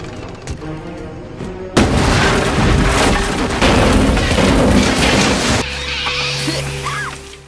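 A sudden loud boom bursts in and roars for several seconds over a rumbling, chaotic background before settling into a lower din.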